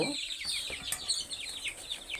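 Desi chicken chicks on a farm chirp in a dense, continuous chorus of high, rapid peeps, fairly close and with no talk.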